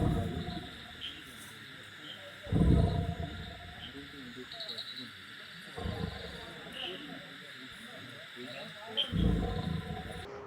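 Deep, loud roars from a tiger trapped in a forest department cage in a village yard in Wayanad, Kerala, repeating at intervals of a few seconds with low growls in between.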